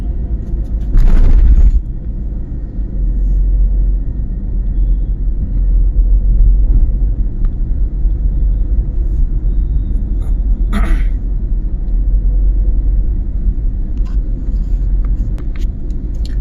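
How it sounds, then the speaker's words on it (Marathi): Traffic on the newly opened Sinhagad Road flyover between Vitthalwadi and Funtime theatre, heard from a moving motorbike; a steady, loud road rumble with vehicles passing close by. "आता जे आपण या उड्डाणपुलावरती ट्रॅफिक बघतोय"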